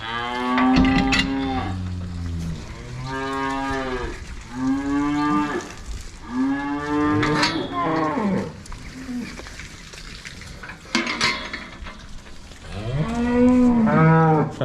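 Holstein dairy cows moo repeatedly on a farm, long drawn-out lowing calls from several animals rising and falling close by, with short gaps between them and faint background farm noise.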